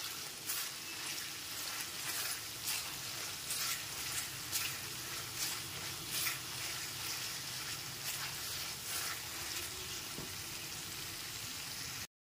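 Chicken pieces frying in spiced oil in a pan while cooking chicken with capsicum, a steady dense sizzle with faint stirring scrapes running evenly throughout and no talking.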